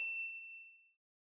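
A single bright notification bell ding rings out alone, clear and close, then decays away within about a second.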